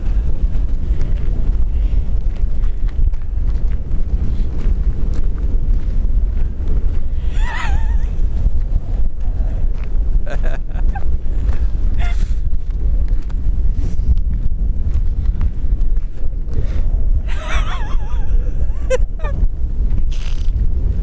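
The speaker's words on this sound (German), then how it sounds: "Der Wind peitschte förmlich über das offene Feld. Kalt, laut, unnachgiebig." Strong, cold wind roars over an open field in Iceland during a storm. It is a loud, constant rumble buffeting the microphone, with occasional brief gust bursts and no talk.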